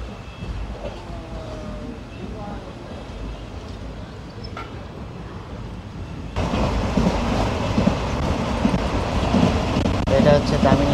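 Passenger train 16116 PDY MS Express pulls out of a small Tamil Nadu station, heard from on board as a low rumble that swells into louder rolling clatter and rail noise partway through, with no clear talk.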